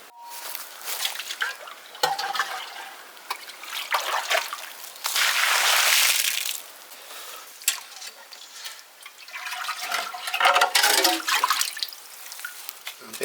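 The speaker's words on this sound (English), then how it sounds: "first let's empty all that water out" Water poured and splashed out of an old cottage garden relic, with gushing bursts, trickles and drips that rise and fall as it is tipped and emptied nearby.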